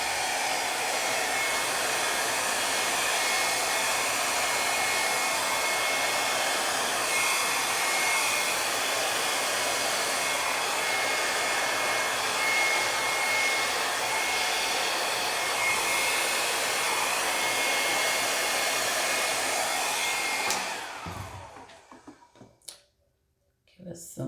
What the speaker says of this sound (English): we'll take and blow dry this off